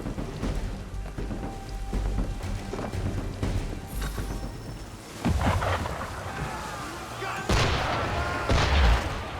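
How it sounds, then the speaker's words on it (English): Cannon and gunfire aimed at a ship in the Assassin's Creed III game, with deep booms and rumbling blasts over steady rain-like wash and water noise, loud and close. "Why is he shooting at us?"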